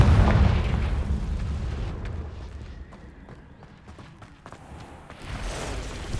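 Confringo spell explosion in Hogwarts Legacy, a heavy booming blast at the start that rumbles and fades, followed by softer game effects and another swelling burst near the end.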